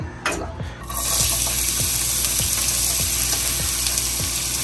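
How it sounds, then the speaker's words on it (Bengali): Food hits a hot wok and a loud, steady sizzle starts after a short quiet moment, with regular scraping strokes of stirring ticking through it, near and without speech. "কড়াই গরম হয়ে গেছে"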